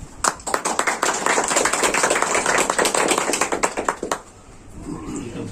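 An audience at a felicitation ceremony for a new mandal education officer bursts into loud, dense clapping that holds steady for about four seconds, then thins to a few scattered claps and fades.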